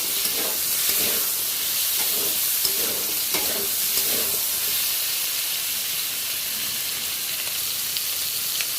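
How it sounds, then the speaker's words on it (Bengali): Chopped tomatoes frying with spices in a pan for a vegetarian cauliflower, potato and bori dish, giving a steady close sizzle and hiss with a few stirring scrapes early on and no voices. "এরপরে কেটে রাখা টমাটোগুলো আমি দিয়ে দেবো ভালো করে ভেজে নেব সব উপকরণগুলো"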